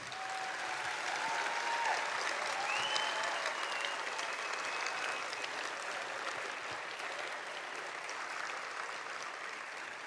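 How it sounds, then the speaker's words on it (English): Sustained audience applause at an evening public service awards ceremony, a dense steady wash of clapping from a large crowd lasting the whole stretch with faint tonal sounds above it. "I would ask you to give them all one last collective round of applause"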